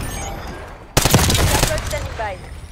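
Grekova rifle with a 60-round drum fires in the Call of Duty Black Ops video game. After a quiet moment, a sudden loud burst of rapid automatic fire starts and keeps going. It is close and dense.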